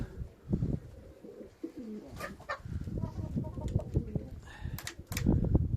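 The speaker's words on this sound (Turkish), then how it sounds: "Burada da beyaz bureseler ve güvercinlerimiz var." Pigeons coo repeatedly in a snowy winter coop shared with white Bresse chickens, with occasional clucks and crowing-like calls from the fowl mixed in, fairly close and continuous.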